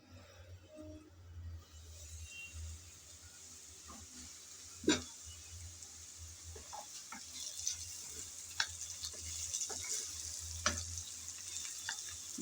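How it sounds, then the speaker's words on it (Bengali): Potatoes and carrots fry under a lid in a pan, giving a steady soft sizzle with occasional sharp ticks and pops, moderately quiet and close, with no voices. "ঢাকনা দিয়ে আলু আর গাজর কিছুক্ষণ ভেজে নিলাম।"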